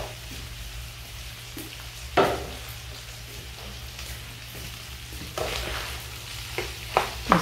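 Half a kilo of sausage and two diced onions frying in a pan, a steady close sizzle with occasional louder stirring scrapes and bursts of spattering.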